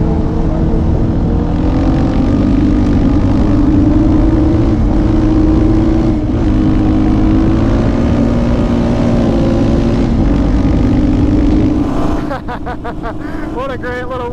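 Small four-wheeler ATV running along a damp gravel road, a loud steady engine drone close up that shifts and thins near the end, with a voice talking over it.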